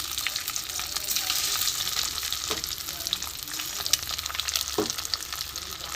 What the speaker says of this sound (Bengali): আমি এগুলো একটা একটা করে ভেজে নেব।